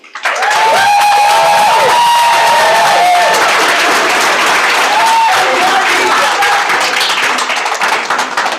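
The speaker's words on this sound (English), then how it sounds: "Let's give all of our graduates a round of applause." Audience at a leadership program graduation ceremony breaking into sustained loud applause with some cheering and whoops, a dense crowd of clapping filling the room, with a few voices calling out over it.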